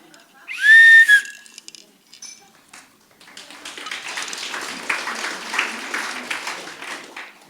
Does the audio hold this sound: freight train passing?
no